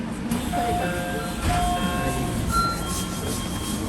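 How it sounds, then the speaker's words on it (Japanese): Train pulling into platform 4 at Toyohashi station, heard from inside as a steady rumble of running gear, with thin squealing tones from wheels and brakes drifting over it at moderate volume. "豊橋駅には4番線に入線しました。"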